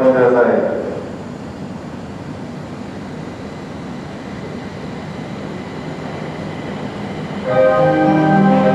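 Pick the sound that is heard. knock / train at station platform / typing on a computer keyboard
train at station platform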